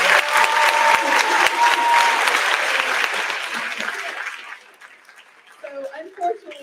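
Audience applause for a coach at an evening talk, dense and loud at first, then thinning out and fading over several seconds as a voice begins speaking near the end.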